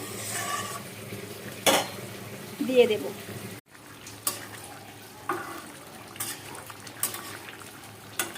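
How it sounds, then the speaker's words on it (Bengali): Fried fish pieces going into a bubbling curry gravy for a fish masala curry, with stirring and scraping in the pot, a few sharp clinks, and someone speaking briefly over the kitchen sounds. "এইটুকু ঝোলটা বেশ ফুটে উঠেছে এবার আমি ভাজা মাছগুলোকে এর মধ্যে"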